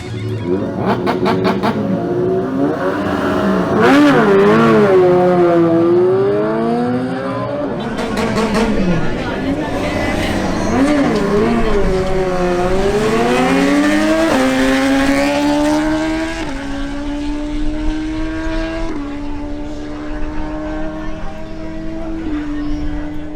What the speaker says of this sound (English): Next up is a duel between Mauricio Diaz's Yamaha MT-10 and Pedro Infante's BMW S1000R